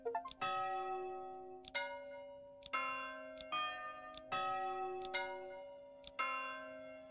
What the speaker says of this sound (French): Son de cloche.